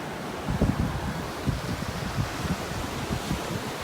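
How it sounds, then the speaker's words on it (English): Gentle surf on a North Naples, Florida beach rolls in as a steady low wash, with wind buffeting the microphone throughout and no voices. "Don't let these waves take you away on your walk."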